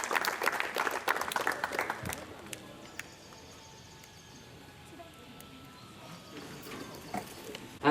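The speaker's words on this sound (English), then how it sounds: "give them a big round of applause" Applause from an audience at a youth parliament session honoring performers, a couple seconds of clapping that fades out into quiet room ambience.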